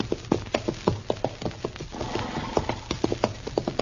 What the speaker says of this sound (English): Darn horse.